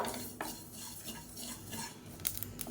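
White sesame seeds dry-roast in a pan, a dense close crackle of tiny pops under occasional scrapes of a spoon, with sharper bursts toward the end and no talking.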